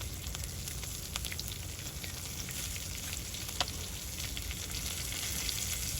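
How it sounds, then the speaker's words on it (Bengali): Fried fish sizzling in a pan with chopped onion and spices, a steady moderate hiss with occasional sharp pops and light stirring, no talking. "এখন দিয়ে দিচ্ছি মশলা, পেঁয়াজ কুচি দিয়ে দিচ্ছি, এরপরে দিয়ে দিব মশলা বাটা।"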